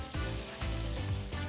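Food fries in hot oil in a wok, a faint steady sizzle broken by a few soft clatters of stirring.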